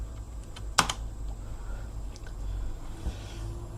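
A few quick keystrokes on a computer keyboard, with a sharp double tap of a copy-and-paste shortcut standing out over a low background hum.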